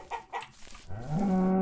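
Chickens cluck in the Minecraft-like game MineClone2. A few short, close calls come first, followed by a louder, sustained fowl call that runs to the end, with no talking.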